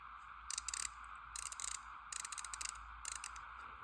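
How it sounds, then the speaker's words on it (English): A Tecton 3/8-inch folding ratchet clicks in four quick bursts of rapid fine-tooth ticks, close and quiet, with short pauses between them and no talking. "This is a Tecton folding ratchet"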